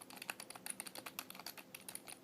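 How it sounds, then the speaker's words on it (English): Glossy black chiclet-style Logitech K360 keyboard being typed on: a quick, uneven run of soft plastic key clicks, close and quiet, with no talking. "Keys is pretty much what it sounds like when you type on it."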